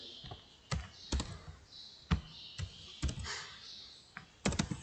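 Typing on a computer keyboard while writing R code, with scattered clusters of crisp key clicks in an irregular rhythm, close and moderately quiet, against a faint background hiss.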